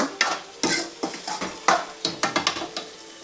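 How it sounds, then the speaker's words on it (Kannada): A spoon stirs masala into cooked mutton in a pan, making a run of close, scraping strokes and metallic knocks in an uneven rhythm over a soft sizzle. "ನೋಡಿ ಚೆನ್ನಾಗಿ ಮಸಾಲೆ ಇದಕ್ಕೆ ಅದರಲ್ಲಿ ಕಲಿಸಿ"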